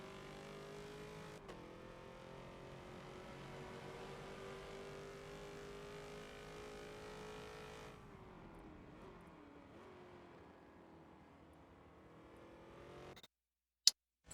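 Race cars in the Forza video game howl around the Long Beach street circuit, with steady engine tones that drop and shift through a hairpin before cutting out, followed by a sharp click.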